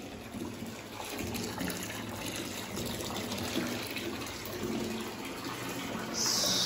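Tap water pours steadily into a bathtub being filled for a lavender bubble bath, a continuous close gushing rush with no pauses.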